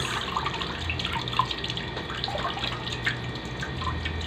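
Items are washed under a running tap, a steady close splash of water with small drips and knocks from handling, and no talking.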